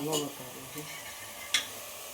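A dal tempering (tadka) sizzles in hot oil in a home kitchen, a soft frying hiss with a few stirring clinks and a sharp burst near the end, with voices faint in the background.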